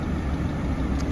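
A Ford Focus MK3 with a freshly rebuilt engine, warmed up after about twenty minutes of running, idles with a steady low rumbling drone at close range, even and unbroken, with no talking.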